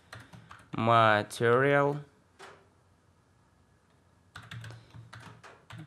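Keys clatter on a computer keyboard as code is typed in a Python tutorial for Revit, quick taps around a man's brief spoken words and resuming after a pause.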